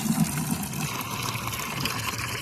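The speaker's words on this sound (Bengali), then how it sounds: "প্রথমে এরকম একটা বালতি নিয়েছি, বালতিতে আমি জল ভরতে দিলাম" Tap water pours steadily into a bucket, a continuous gushing, splashing flow, fairly close and loud, with no speech.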